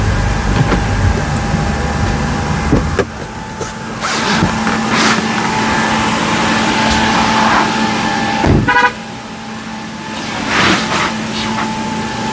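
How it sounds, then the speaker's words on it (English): A big SUV driving into an Albott inflatable paint booth blown up by 950W and 550W blowers, its engine loud and near over the constant blower drone, with a short horn-like toot and shifts in level as it moves. "So next we're going to bring a car in and show you how it looks."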